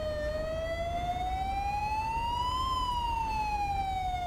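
A police car siren in GTA 5 wails steadily and loudly, its pitch rising slowly and then falling again in a long continuous sweep, with no talking over it.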